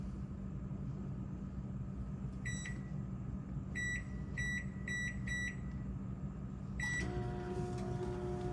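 A microwave oven runs with a steady low hum while heating canned meals, broken by a few short electronic beeps from the keypad and a longer beep near the end.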